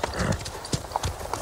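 A horse's hooves clip-clop in several uneven thuds against a noisy backdrop, with a faint voice mixed in.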